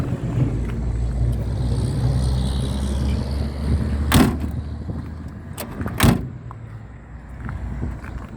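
A truck door handled up close, with two sharp clunks of the door opening and shutting over a low idling engine and faint rattles.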